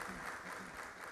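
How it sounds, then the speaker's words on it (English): A Manchester audience at a 13th Rajab religious celebration claps briefly, a short, faint patter of applause heard from a distance. "Clap."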